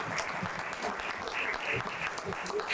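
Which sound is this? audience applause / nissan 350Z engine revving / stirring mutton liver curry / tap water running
audience applause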